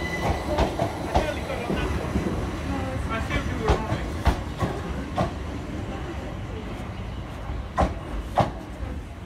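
A Southern Class 387 passenger train departs a station, rolling with a rumble and repeated clickety-clack wheel knocks and clanks, loud and close, with a voice speaking now and then.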